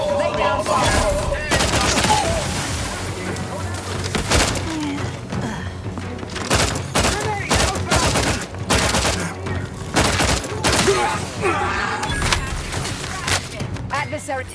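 Gunfire in The Outer Worlds 2, sustained bursts of rapid shots with loud cracks and thuds through a chaotic firefight, while voices speak over the shooting.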